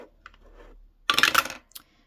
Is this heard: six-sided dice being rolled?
yes